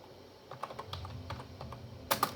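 Rapid keystrokes on a computer keyboard as a SQL query is typed, a run of light irregular clicks ending in a couple of sharper, louder key hits, with no talking.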